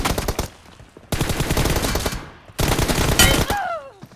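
Rapid automatic gunfire bursts from PUBG Mobile, loud and close, three dense volleys separated by brief gaps, ending with a descending whistling tone.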